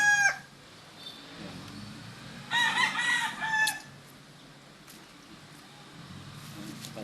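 Chickens on a farm cluck softly and intermittently while a rooster crows once loudly in the middle, with quiet background noise between the calls.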